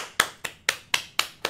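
One person claps six times at an even, steady pace, each clap sharp and close.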